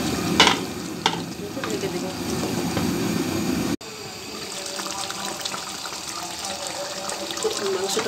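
Chicken pieces with green chillies stir-fry in a pan, giving a steady close sizzle with scraping and stirring noises and a brief break midway.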